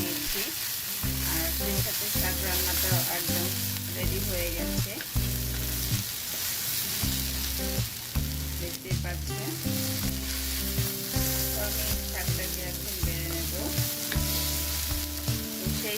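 Jute leaves fry and sizzle in tempered oil as they are stirred in a pan, a continuous crackling hiss running under loud background music.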